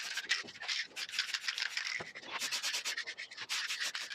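Silver spray paint applied in light coats to a masked Hayter 41 Spirit lawn mower part: close, repeated short hissing bursts of the aerosol can, closely spaced and steady in loudness.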